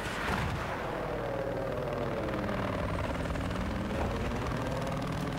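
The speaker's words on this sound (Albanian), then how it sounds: "Ka në shaj helikopter." A helicopter in the video game Battlefield 4, its rotor roaring steadily and loudly throughout, with heavy rumbling combat noise beneath it.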